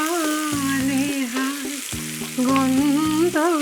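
Chopped onions fry in a pan for a Kolkata Maidan-style stew, giving a steady close sizzle beneath a louder tonal melody that runs throughout.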